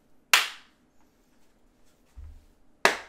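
A streamer claps live on Twitch with two sharp, single claps spaced a couple of seconds apart, close and loud in an otherwise quiet room, with a brief low thump between them.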